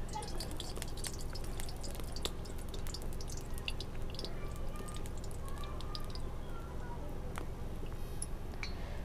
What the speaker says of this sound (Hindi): कढ़ाई गर्म हो चुकी है, डाल देते हैं फॉर्चून का तेल।